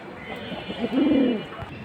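Pigeons of old Bengali fancy breeds such as red-patched tota types give a single soft, throaty coo swelling for about half a second, close and fairly loud over faint background noise.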